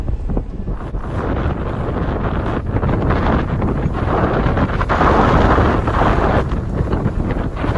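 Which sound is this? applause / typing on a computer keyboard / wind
wind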